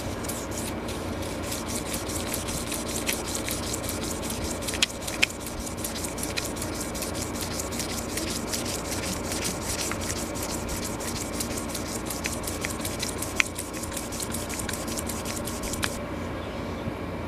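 Sandpaper is rubbed against itself over a rusty hatchet head during restoration, a fast, steady scratching with rapid back-and-forth strokes, close and continuous, with a few sharper ticks along the way.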